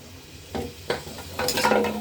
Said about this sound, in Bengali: পেঁয়াজটা একটু ভাজি করবো।